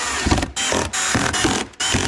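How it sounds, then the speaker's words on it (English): Small black screws are run down tight to mount a blower motor in a Squarebody truck engine bay, with a power tool whirring in four short bursts separated by brief pauses, close up. "So I got all them started. I'm just gonna run them down tight."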